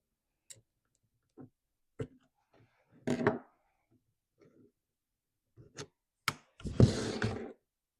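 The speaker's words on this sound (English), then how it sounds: "Just going to push it off and pull the carb off at the same time." Carburetor being pushed and pulled off a Stihl MS 361 chainsaw with aftermarket carb and fuel lines: scattered small clicks and knocks, a short scraping rub midway, then a louder rasping scuff near the end, close and quiet with no talk.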